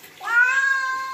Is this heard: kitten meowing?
yes